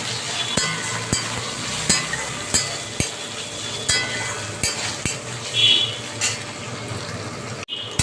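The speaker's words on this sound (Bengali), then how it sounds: "দেখো পনিরগুলো ভাজা হয়ে গেছে, হালকা করে ভেজেছি।" Lightly salted paneer cubes fry lightly in a pan with a steady sizzle, punctuated by regular taps and scrapes of a spatula, close and fairly loud with no talking.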